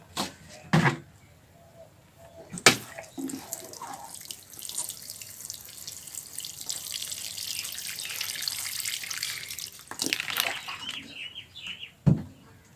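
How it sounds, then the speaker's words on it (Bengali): Water poured generously into a pot holding a freshly repotted chrysanthemum, a steady mid-level splashing stream lasting several seconds between a few clunks of handling, with no talk. "এরপরে আপনারা এর মধ্যে ভরপুর জল দিয়ে দেবেন"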